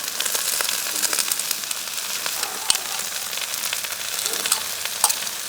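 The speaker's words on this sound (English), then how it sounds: "Throw some more beef tallow down." Beef tallow sizzles on a hot Blackstone griddle, a steady close crackle and hiss of spitting fat with a couple of sharp metallic taps, loud and continuous, with no voices over it.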